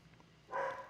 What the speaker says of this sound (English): sorry about my dog still barking